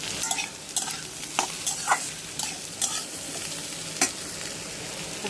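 Fried potatoes and onions sizzle steadily in a pan for an egg curry, with repeated stirring scrapes and clicks of a spoon against the pan over the constant frying hiss.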